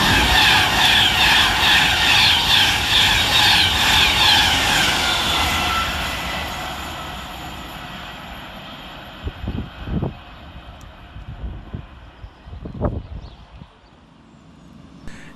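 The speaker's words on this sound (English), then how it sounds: "Giving a nice tone through the station will be 390118, working 1 Sierra 42 for Avanti West Coast from London Euston through to Glasgow" An Avanti West Coast class 390 electric train runs at speed through Lockerbie station heading for Glasgow, a loud pulsing rush with a whining tone that fades away, followed by a few scattered thumps and knocks.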